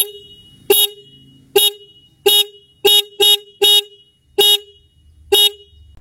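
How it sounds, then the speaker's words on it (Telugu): The single horn of a Bajaj Pulsar NS 200 motorcycle sounds in eight short, loud, bright toots, spaced unevenly across the clip with near-silence between them. "సింగిల్ హార్న్ అయినా సరే లౌడే ఉంది"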